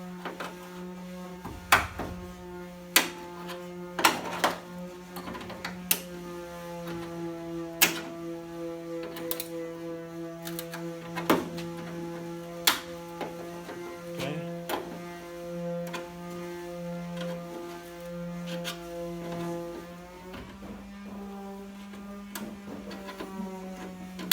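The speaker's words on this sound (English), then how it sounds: "one more thing we got to do here real quick is take out all these staples" Staples are pried out of the interior of a '66 Nova race car, giving sharp, irregular clicks and snaps, close by, over a steady low electrical hum.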